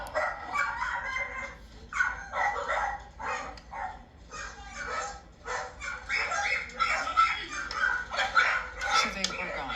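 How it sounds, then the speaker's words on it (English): Several dogs in a household of nine bark, yip and whimper in repeated irregular bursts, fairly close, with faint talk and household noise underneath. "It's fun to live with that many dogs"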